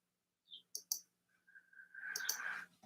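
A few crisp computer mouse clicks sound close and quiet, two quick ones followed by a short double click, with a faint whine and a low hum in an otherwise silent room.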